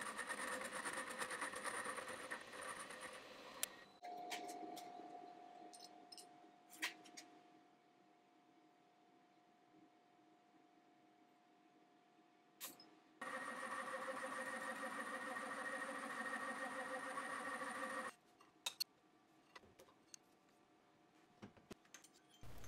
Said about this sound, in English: I'm gonna use the boring head to true them up.